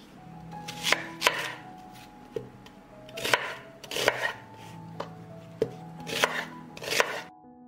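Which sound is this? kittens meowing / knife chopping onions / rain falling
knife chopping onions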